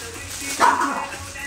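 A pet dog gives a single short bark partway through, heard indoors during a casual live stream over faint background noise.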